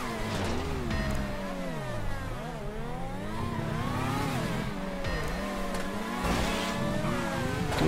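Benefactor BR8 Formula 1 race car in GTA Online, its high-pitched engine whining and revving continuously, pitch sweeping up and down through gear changes and turns, loud and close throughout.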